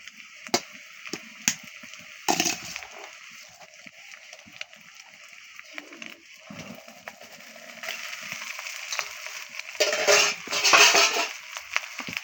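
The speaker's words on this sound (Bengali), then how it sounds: "ওই ভাতগুলোকে ভালোভাবে কিছুক্ষণ ভেজে নিতে হবే" Leftover cooked rice frying in a pan while a utensil stirs it, with scattered clanks and scrapes against the pan and bursts of sizzling that grow louder toward the end.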